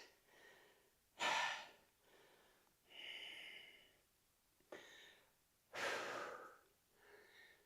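Heavy panting after a dumbbell and band leg workout: several loud, rough breaths in and out in an uneven rhythm, close and alone with gaps of quiet between them.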